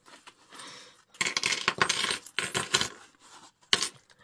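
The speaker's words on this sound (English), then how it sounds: "We've got quite a bit of change." Loose change, including pound and £2 coins, clinks and jingles as it is handled and tipped onto a table, dense rattling bursts with a final sharp clatter, loud and close, no talking.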